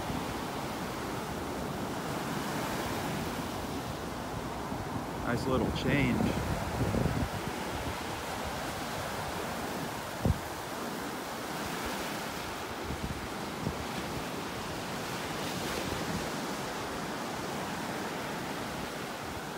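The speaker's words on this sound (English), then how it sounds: "It's kind of nice having these waves." Ocean surf washes steadily onto a beach in North Naples, Florida, a continuous broad rush with gentle swells, while someone briefly speaks over it.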